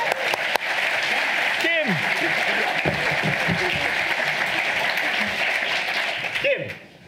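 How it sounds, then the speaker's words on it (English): Audience applause for an elevator pitch presenter at a demonstration event, a full, steady round of clapping with cheers and a shout near the end as the next presenter steps up. "Round of applause!"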